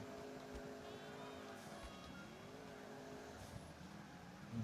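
A modded car drifting in GTA IV on PC, its engine droning steadily with wavering pitch beneath continuous game noise and someone talking over it.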